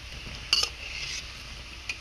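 Gokul pitha coated in coconut and flour fries in a pan with a soft, steady sizzle, joined by a couple of brief clinks of a utensil against the pan.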